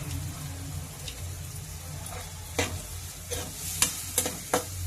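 Chopped onions fry in a pan for a coconut-milk bean curry, giving a steady soft sizzle with a few sharp spatula scrapes and stirring clicks near the end.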